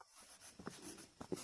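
Scratchy strokes of a pen or marker filling in an answer for a Class 6 science worksheet, a few short close scrapes and taps with quiet pauses between them, no talking.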